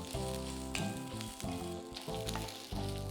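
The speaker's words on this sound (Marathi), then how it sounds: "याच्यामध्ये घालणार आहोत पांढरी तीळ आणि लसूण आता साधारण अर्धा मिनटासाठी आपण परतून घेऊया" White sesame seeds and garlic sizzle loudly in a hot frying pan with oil, a steady, close crackle and hiss that runs throughout with a few brief stirring clatters.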